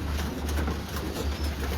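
Pigeons at a loft cooing, a continuous low murmuring coo held steady throughout, close and fairly clear with no talk over it.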